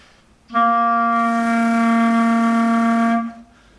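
A single sustained clarinet note played with flutter tonguing, a rolling buzz in the tone held for about three seconds before stopping.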